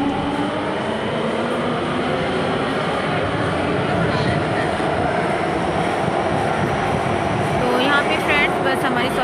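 Steady loud rumble of a metro train in motion, with wheels droning on the rails and brief squeals near the end.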